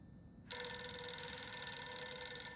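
A telephone in the video game Silent Hill f abruptly starts ringing after a half-second of low ambience, a steady, loud electronic bell tone that continues unbroken to the end.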